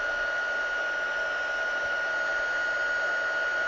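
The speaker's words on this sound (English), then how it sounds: "I'm going to bring in my embossing heat gun." An embossing heat gun blows with a steady, even whoosh at close range and no other sounds.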